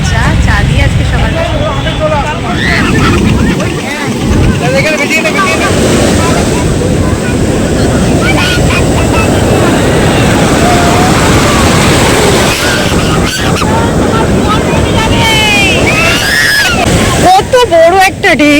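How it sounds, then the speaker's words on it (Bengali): Waves roll and break on the sand at Puri beach in a continuous loud roar of surf with heavy wind buffeting the microphone; people talk faintly in the background. "কত বড় একটা ঢেউ।"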